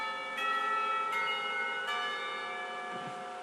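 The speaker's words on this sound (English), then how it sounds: "The clock tower bells ring, signaling the end of the period" Clock tower bells in the visual novel Katawa Shoujo ring out three times in a steady rhythm, each strike leaving a long shimmering, overlapping resonance with no talking.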